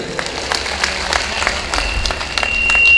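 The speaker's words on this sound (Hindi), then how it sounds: "जोरदार तालियों से।" Applause from a seated audience at a Hindi-language poetry gathering honoring a foundation, a steady crowd clapping held at even strength for about three seconds and swelling slightly toward the end, with a faint tone running underneath.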